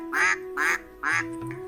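A white duck quacks three times in close, loud, evenly spaced calls, followed by a fainter, shorter sound at the end.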